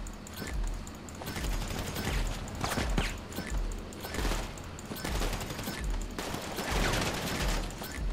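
Rapid bursts of automatic gunfire in GTA 5 Online, with repeated volleys of sharp shots rattling back and forth in a sustained firefight.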